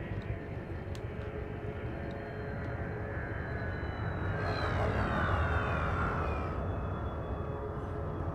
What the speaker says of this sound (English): And come and land on another awkwardly placed landing pad.